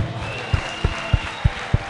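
Steady church congregation applause, with regular low thumps pulsing through it at an even rhythm.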